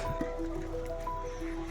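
A scrub brush is dunked into water while a vehicle is being washed, giving wet squishing and dripping sounds up close over a steady background hum with faint tonal whines.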